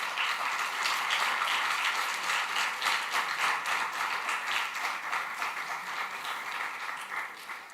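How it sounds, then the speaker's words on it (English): A full room at the Falling Walls Lab Italy 2022 event breaks into steady, sustained applause for the third-place finisher, dense and even throughout, gradually thinning toward the end with no talking. "Big round of applause"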